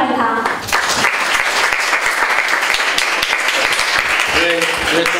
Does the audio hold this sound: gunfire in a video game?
no